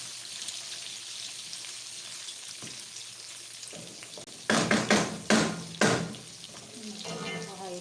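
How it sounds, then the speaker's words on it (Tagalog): Onions frying in a pan during home cooking, a quiet steady sizzle that swells into several loud bursts of hissing and stirring, with a voice talking in between. "Nakita ba diyan yung pagluto ko? Dito po ng sibuyas."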